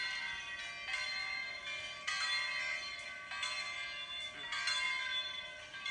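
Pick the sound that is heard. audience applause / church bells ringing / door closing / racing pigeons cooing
church bells ringing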